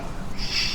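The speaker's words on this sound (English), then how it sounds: "An owl." An owl calls briefly in a quiet outdoor setting, a single soft hoot over faint background ambience.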